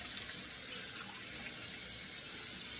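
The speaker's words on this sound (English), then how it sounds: "So I'll run my cold water tap here." Cold water running steadily from a sink tap into a draining sink, a constant close hiss and splash with no talk.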